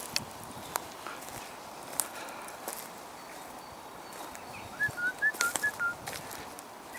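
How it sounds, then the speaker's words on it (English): Birds chirp and whistle outdoors in a few short bright bursts over quiet ambient noise, with occasional soft footsteps or taps nearby. "It's good to hear so many birds around."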